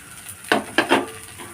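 Chili powder sautéing in a pan for a fish curry, a few short sizzling bursts mixed with stirring scrapes, close and moderately loud.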